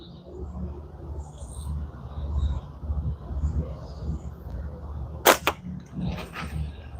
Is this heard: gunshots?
yes